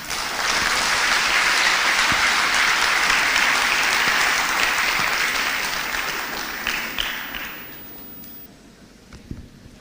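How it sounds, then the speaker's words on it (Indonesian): Loud, sustained applause from a large audience closes a national-perspectives lecture by Ganjar Pranowo at Universitas Indonesia. Dense clapping holds steady, then tapers off after about seven seconds into scattered claps and faint room noise. "Tepuk tangan yang meriah bagi Bapak Ganjar Pranowo."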